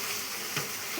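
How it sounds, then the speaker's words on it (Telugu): Onions frying in a pan give a short, continuous, fairly loud hissing sizzle with no pauses. "ఉల్లిగడ్డ ఇది అలా వేగుతుంటుంది."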